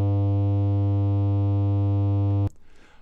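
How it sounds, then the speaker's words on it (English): A steady sustained tone pushed through heavy harmonic distortion from the SoundToys Decapitator drive control, buzzy and rich in overtones, held for over two seconds before stopping abruptly into a brief noisy tail. "we can easily increase it using the drive control of the decapitator"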